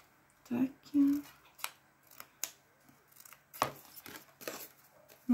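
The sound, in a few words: scissors cutting paper for an explosion box craft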